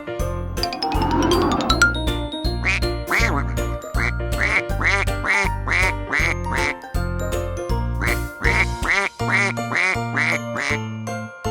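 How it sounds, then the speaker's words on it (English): A duck quacks in a repeated series of nasal quacks. They come in a steady rhythm over a bouncy children's tune with bell-like jingles, after a brief pop and chime at the start. "Duck."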